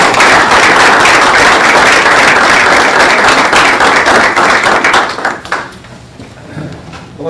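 Loud, dense audience applause at a chamber of commerce election forum, steady for about five seconds before tapering off into a quiet room.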